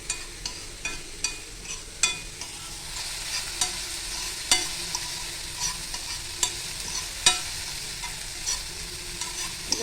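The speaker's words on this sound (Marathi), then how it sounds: "आता हे आपण भाजी टाकतोय" Vegetables and spices frying in a pan for a rava burger, a steady sizzle with repeated sharp scraping taps of a spoon stirring through the mix, close and moderately loud, no voices.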